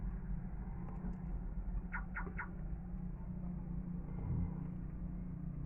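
Highway traffic near Cabanatuan, a constant low rumble of passing vehicles heard from a distance, with a few faint chirps briefly rising above the steady drone.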